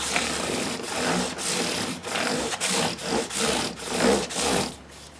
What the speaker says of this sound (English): you can really hear the difference going from the 320 to 600, just the sound of the abrasive